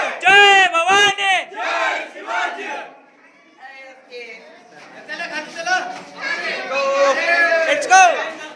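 A large, dense crowd at Daulatabad fort, with loud shouting and chanting voices, a chant-like burst opening the clip, a brief quieter lull, then sustained crowd chatter swelling near and loud.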